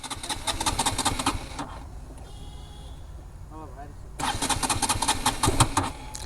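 A KTM RC 200 motorcycle, said to have no fuel, is cranked: two bursts of rapid mechanical chatter close by, separated by a quieter gap, with voices talking around it.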